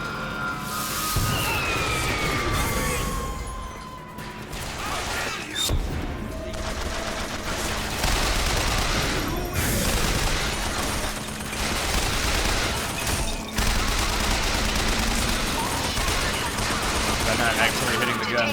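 Sustained gunfire from a mounted machine gun in the video game BioShock Infinite, loud overlapping bursts and booms rolling on for many seconds with brief gaps, voices talking intermittently underneath.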